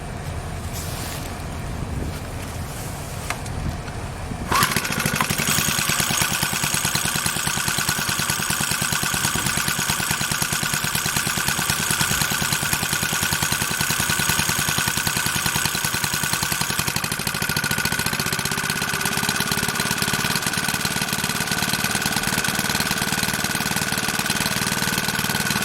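Troy-Bilt TB4BP backpack gas leaf blower engine starts up after a few seconds of quieter sputtering, then runs steadily at a loud, even idle with a rattly two-stroke buzz.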